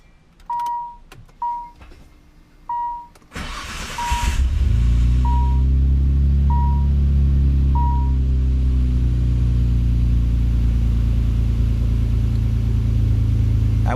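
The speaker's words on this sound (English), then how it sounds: "let's go ahead and take a moment to fire it up so you can see exactly what it hears" A Nissan 300ZX Z32 with a swapped RB26DETT engine gives a few chime beeps, cranks, then fires up and settles into a loud, steady idle, heard close up.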